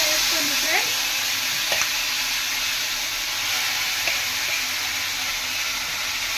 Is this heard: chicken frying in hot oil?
yes